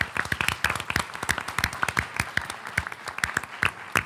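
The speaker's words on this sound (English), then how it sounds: "let's offer a round of applause for Ms." A small group applauds at a school district board meeting, with distinct, sharp individual claps in an uneven rhythm rather than a dense wash, close and fairly loud throughout.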